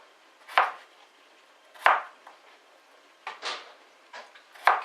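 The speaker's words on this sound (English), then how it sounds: "Just chopping away, dicing it up into small pieces." A knife chopping and dicing beef-and-vegetable soup ingredients into small pieces on a board, with sharp separate cuts spaced about a second apart, close and clear with quiet between strokes.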